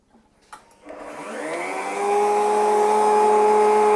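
An Axcaliber stile and rail cutter spins up with a few clicks, then its motor rises into a loud, steady high whine, close by and without speech, as it runs for cutting wood.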